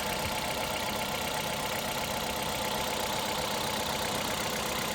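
A 2010 KIA Ceed with a 1.4 petrol engine idling under an open bonnet, giving a steady, even hum with a faint ticking texture, close and constant throughout.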